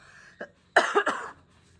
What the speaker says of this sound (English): This is also one of my symptoms, the cough.